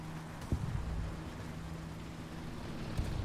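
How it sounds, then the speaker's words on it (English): A Panzer III M tank engine in War Thunder ground battles rumbles as a steady low drone, with a couple of brief thumps over the continuous hum. "Your engine is so loud."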